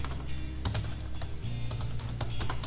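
Steady run of keystrokes on a computer keyboard while a disk partition command is typed, irregular close clicks and taps continuing throughout without any talk.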